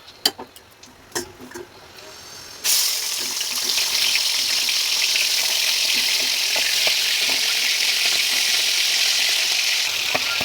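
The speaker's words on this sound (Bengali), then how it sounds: "এই চিংড়ি মাছটা দিয়ে দেবো" Small shrimp tipped into a hot pan with five-spice, a few light taps followed by a sudden loud, steady sizzle of frying that carries on without a break.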